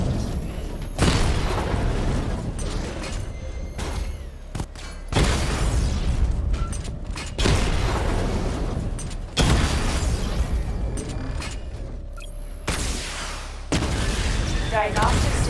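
Missile barrage explosions in the Batman: Arkham Knight video game, loud repeated booming blasts in several heavy bursts over about fifteen seconds, with brief quieter gaps between volleys and mechanical clatter.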